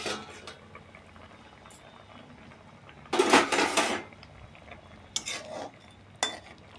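A pot lid is lifted off steamed hilsa fish, giving a few sharp metallic clinks and scrapes amid a faint background simmer, with one longer clattering burst in the middle and short knocks afterward.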